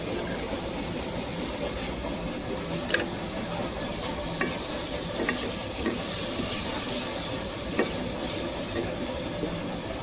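Vegetables with chili, turmeric and salt stir-fried in a pan for a home-style Bangladeshi vegetable dish, a steady low sizzle with occasional scraping clicks of the spoon throughout.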